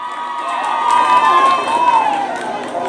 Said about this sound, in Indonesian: Kita beri tepuk tangan yang meriah untuk Juniarti kelas 12 IPA